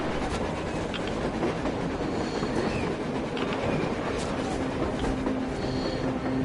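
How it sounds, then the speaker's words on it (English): A train rumbles along on the surface in the video game Metro Exodus, a steady dense roar with faint clicks and squeals on top, continuous and fairly close, with no talk. "A train! A damn train on the surface!"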